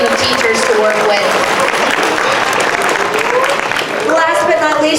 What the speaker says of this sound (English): If we can have a round of applause for them